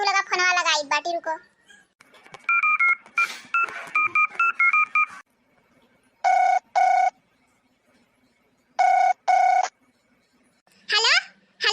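Bursts of telephone keypad tones beep in quick pairs amid a child's chatter and a short electronic melody, with quiet gaps between the dialing bursts.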